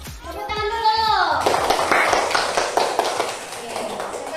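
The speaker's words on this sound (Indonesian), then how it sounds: "Tepuk tangan dulu." A class of children clapping their hands together in a classroom: a dense, steady patter of claps following a voice and a short sung phrase, close and lively.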